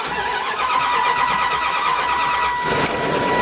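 A Lexus GS300, left unused for over a year, cranks and catches into a loud, rough idle with a hissing mechanical roar and a slight surge partway through, close up with no talk.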